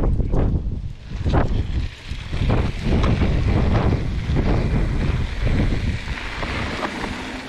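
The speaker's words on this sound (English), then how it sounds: "This wind is a fuck up" Strong wind buffets the microphone out on the water near a boat, a continuous loud roaring rush with gusting surges and low rumble throughout, no voices.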